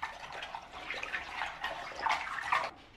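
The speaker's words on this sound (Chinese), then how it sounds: "搅拌化开。" Salt being stirred into a bowl of cold boiled water, a close, continuous soft swishing and sloshing with small splashy accents, steady for a few seconds and heard alone.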